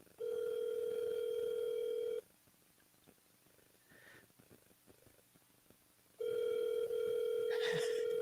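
A telephone call ringing out: two long, loud, steady ring tones with a quiet gap between them, heard alone at close range.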